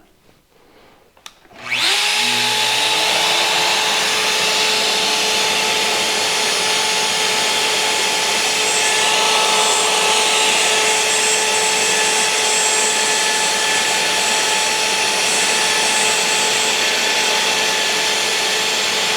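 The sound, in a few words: shop vacuum running while Shaper Origin router cuts wood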